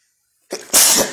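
A single sharp human sneeze, a short intake followed by a loud, close explosive burst, alone with no talk.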